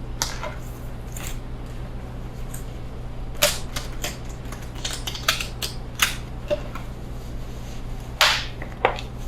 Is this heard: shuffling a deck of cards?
yes